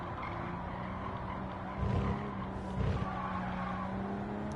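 A Toyota Supra spins out and skids during a Gran Turismo 7 Toyota Cup race, two short bursts of tyre noise rising over steady engine drone, with no talk.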